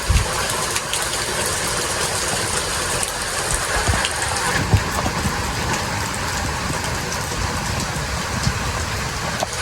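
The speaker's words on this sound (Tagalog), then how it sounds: "Ang lakas ang ulan oh." Heavy monsoon rain in Quezon Province hisses steadily and evenly throughout, a dense continuous wash of noise with no pauses.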